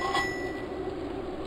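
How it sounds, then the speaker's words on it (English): A single bright bicycle bell ring in the cycling game Zwift at the start, its tone lingering briefly over a steady electronic hum. "If you press the F8, you will hear a little bell ring."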